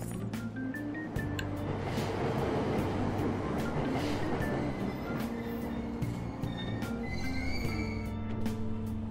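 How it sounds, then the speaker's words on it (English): A video game train (Persona 5) rumbles past steadily with rolling wheel noise and tonal hums, a continuous moderate roar lasting throughout. "And another train."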